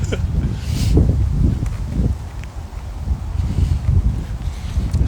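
Low rumbling wind buffets the microphone in gusts, a steady roar with a few faint rustles over it.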